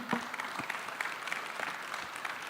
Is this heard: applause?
yes